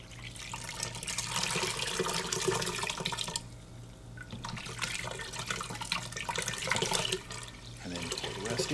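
Tap water runs and splashes as a pot lid is rinsed over a pot in a kitchen, a steady close gush that briefly cuts off and resumes, with faint speech in the background.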